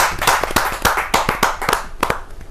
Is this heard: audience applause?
yes